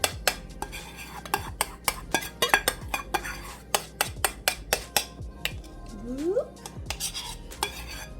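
A spoon clacks rhythmically against a bowl while yogurt and egg are mixed into almond flour bagel dough, with sharp regular taps close by and a brief soft scrape near the end.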